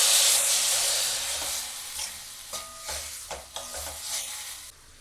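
Raw mango masala in a pan hisses and sizzles strongly just after water is added, a bright steady steam hiss that gradually eases, with a few soft stirring knocks toward the end.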